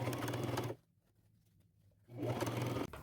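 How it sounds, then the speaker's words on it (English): Sewing machine double-stitching the bottom of an upcycled fringe crossbody bag, close and loud with a rapid even stitching rhythm, pausing for about a second before running again. "sew that shut by staying close to the bottom and double stitching it for durability."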